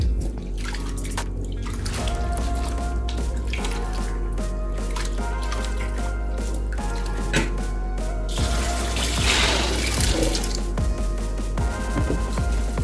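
Rice is washed under running water for a chicken jollof, with a tap pouring steadily into the pot and grains swishing, sloshing and dripping close by. No one talks.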